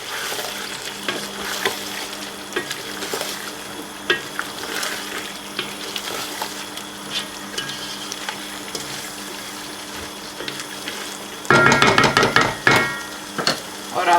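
Chicken and capsicum with garam masala stirred and fried in a pan, giving a steady close sizzle with scraping spoon strokes, swelling into louder, denser frying near the end.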